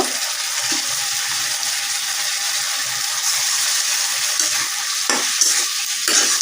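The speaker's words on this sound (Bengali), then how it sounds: "মশলাটার উপরে তেল উঠে আসলে আমরা মুরগির মাংসটা দিয়ে দিব" Chicken pieces fry and sizzle in a pan of spice paste over medium heat, a steady loud hiss with scraping stirs throughout, no talking.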